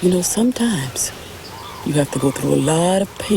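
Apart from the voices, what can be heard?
None of the usual background noises is heard.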